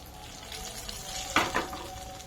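Oil heating in a pan for a prawn chilli sauce gives a soft steady sizzle, with a sharper hissing burst partway through, fairly quiet and without voices.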